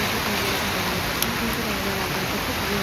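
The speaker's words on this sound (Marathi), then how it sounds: "आणि आता सुरू झालेला आहे पाऊस." Steady monsoon rain hisses as a dense, even wash of noise during a walk near a waterfall, continuous and enveloping with no talk.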